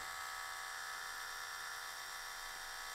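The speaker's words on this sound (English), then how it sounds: "We're gonna drill in here." A small drill runs at slow, steady speed, boring into the center of an S.H. MonsterArts Gigan figure during a wing and hip repair. A continuous, even high-pitched motor whine holds throughout, with no talking.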